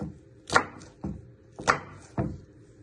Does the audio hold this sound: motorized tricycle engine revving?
no